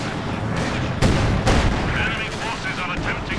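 Submachine gun fire in Company of Heroes 2, heavy battlefield bursts and booming impacts in a dense, loud wash of combat noise with a voice speaking over it.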